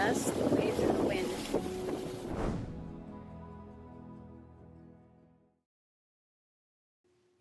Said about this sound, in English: Just us, the waves, and the wind.